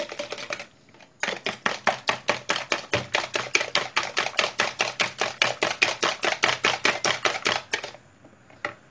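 Basbousa batter of semolina being mixed right after vegetable oil is added, giving a long run of rapid, evenly spaced whisking or beating strokes, close and fairly loud, with no talking.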